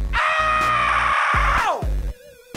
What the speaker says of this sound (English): It feels good to scream sometimes.